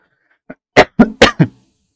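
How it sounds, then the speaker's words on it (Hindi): Several sharp coughs, one small then four loud bursts in quick succession, close and alone with no talking. "मेरी थोड़ी सी खांसी की प्रॉब्लम है"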